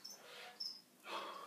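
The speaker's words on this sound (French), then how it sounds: "J'ai vraiment beaucoup de bébés grillons." Baby crickets kept in a container of shredded cardboard chirp in short, thin, high bursts, faint and fairly close, with no talking.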